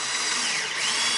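Close, steady whir of a power drill as it drives a long self-tapping screw through two layers of wood while fitting a wooden door casing.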